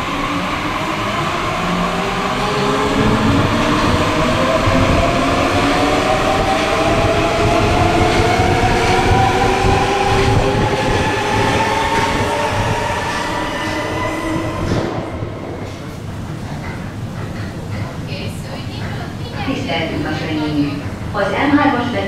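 A Budapest M3 metro train runs on the renovated middle section, its steady rumble and rising, sliding wheel and motor tones loud and continuous, easing slightly toward the end.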